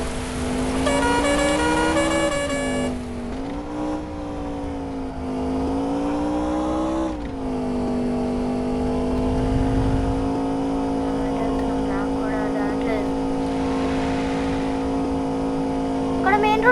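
A car driving along a road toward a main road, with a steady engine and road hum and sustained tonal droning running throughout, fairly loud and constant inside the vehicle.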